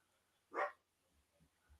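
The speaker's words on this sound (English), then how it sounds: "I got a dog barking in the background" One short dog bark sounds in the background of an indoor online talk, faint and distant, followed by a few soft low thumps.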